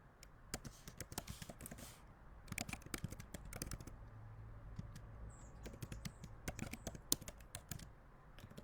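Rapid keyboard typing of a comment, with irregular bursts of clicking keys and short pauses, close and moderately quiet, with no voices.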